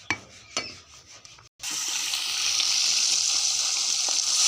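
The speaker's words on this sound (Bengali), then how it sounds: "মাছ ভাজা হচ্ছে" Fish frying in a pan of hot oil: a few clinks of utensils, a brief silence, then a steady, loud, close sizzling hiss that carries on to the end, with no voices.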